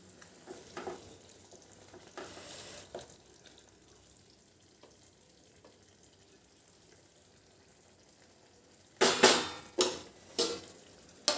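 Fish simmering in a thick gravy in a pan, with soft bubbling and a faint sizzle, broken by several louder bursts of stirring and scraping near the end.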